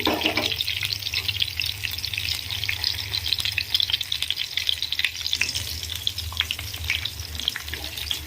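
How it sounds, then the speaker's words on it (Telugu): Eggplant pieces fry with masala in a pan, giving a steady, bright sizzle with scraping stirs throughout, close and moderately loud, with no talk. "ఈ మసాలా మొత్తాన్ని యాడ్ చేసుకొని మంచిగా ఫ్రై చేసుకోవాలి"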